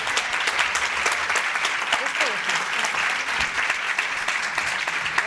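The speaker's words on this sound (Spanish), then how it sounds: "yo pido un fuerte aplauso para Liz." An audience at a tarot congress in Barcelona applauds to welcome a speaker, a full, sustained wash of clapping that stays loud and steady for several seconds.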